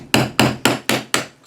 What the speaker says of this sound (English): each time you hit something with a hammer